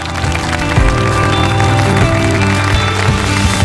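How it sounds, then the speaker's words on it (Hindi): Guests at a gala dinner applaud a host, a loud dense burst of many hands clapping, close and continuous with no talk. "तालियां।"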